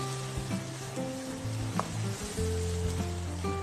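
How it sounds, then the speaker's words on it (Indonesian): Tomato paste, tomato sauce and a bay leaf are stirred in a pan, a quiet sizzle with soft scraping and stirring strokes over a few seconds. "Lalu ada pasta tomat, saus tomat, dan juga bay leaf. Ini kita aduk rata semuanya."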